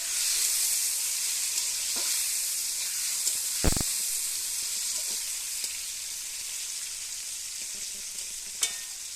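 Green chillies and tomatoes fry in a pan for a paneer dish, a steady close sizzle and hiss with an occasional clink of a utensil.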